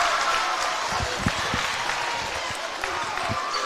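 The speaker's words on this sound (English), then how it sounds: "Crowd making some noise now as the home team's back in front." A high school basketball crowd at Douglass vs Henry Clay roars in a steady, loud wash of cheering and applause that fills the gym. Occasional thuds, likely ball bounces or footfalls, sit underneath.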